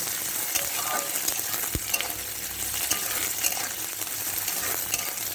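Green chillies and chopped onions fry together in a pan, giving a continuous close sizzle with repeated spatula stirring scrapes and one sharp knock, no voices.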